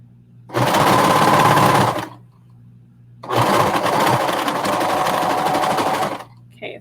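Sewing machine running top stitching on fabric for pirate-style peg leg pants, two steady loud bursts of rapid mechanical whirring separated by a brief pause, close up with no talk.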